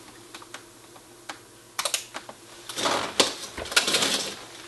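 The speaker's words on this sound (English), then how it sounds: "we had a lot of wild clicking" A NOS NuTone IMA3303L intercom master station with its relays clicking in rapid, irregular bursts, sparse at first and then a dense, louder clatter of overlapping clicks in the second half.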